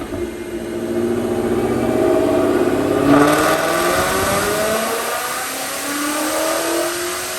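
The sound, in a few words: 2016 Roush Mustang RS3 supercharged engine revving during dyno pull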